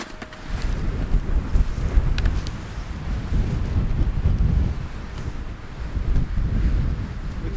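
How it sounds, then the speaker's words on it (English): Strong wind blowing across a snowy winter landscape on a cold-weather camping trip, a loud continuous rumbling roar with buffeting gusts against the microphone and no speech. "With the wind up like this and the sky clearing, it's a sure sign that cold temperatures are coming in."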